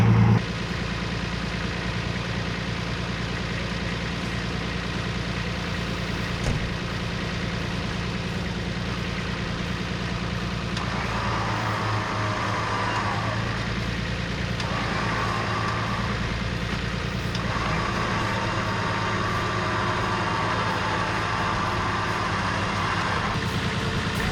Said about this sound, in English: Now we can winch.